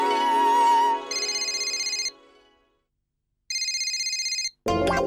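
A mobile phone rings in two loud, close bursts of a bright repeating electronic ringtone separated by a short silence, following a sustained tone, with an indoor household sitcom setting around it.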